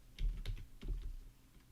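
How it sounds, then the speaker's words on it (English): Keystrokes on a computer keyboard typing out a git commit command, a short run of close, distinct taps in two small bursts, alone with no talk. "Type in git commit."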